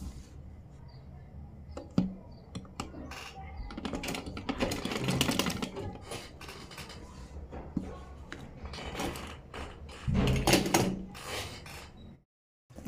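Sewing machine stitching piping along the edge of a round or V-shaped kameez neckline, running in several short, separate bursts with quiet handling noise between them.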